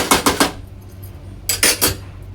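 Prawns and potatoes being stirred in spiced masala in a cooking pot: two close clusters of scraping, clattering spoon strokes against metal with a quiet pause between, no talking.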